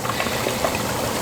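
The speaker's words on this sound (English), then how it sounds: "they're frying, and as you can see, they just pop to the top." Sour cream donuts fry in a pot of hot oil, giving a steady, dense sizzle and bubbling hiss that stays even throughout the short stretch, close up with no talking.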